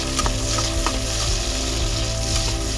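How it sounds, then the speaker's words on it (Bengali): Chopped vegetables, including cauliflower and carrot, sizzle and crackle as they hit hot oil in a wok, a loud continuous frying hiss with sharp pops and spatters, no voices. "তো আমরা এর মধ্যে দিয়ে দেবো একে একে কুচিয়ে রাখা সবজি।"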